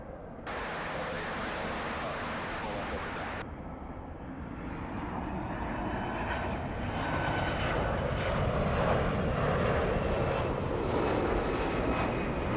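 An Airbus A380 taxiing at LAX gives off a sustained jet engine roar that gradually builds and rises in pitch. A brief burst of broadband noise sits over it near the start.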